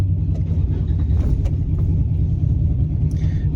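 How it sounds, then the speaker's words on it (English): A noisy motorbike goes by with a heavy, continuous low engine rumble, loud and close throughout, with no talking. "noisy motorbike"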